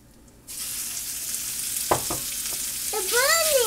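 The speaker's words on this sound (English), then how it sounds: "I'm going to add and brown the beef" Venison browning in a hot pan for stroganoff, a steady loud sizzle that starts abruptly and holds throughout, with a few sharp clicks and a brief squeaky scrape near the end.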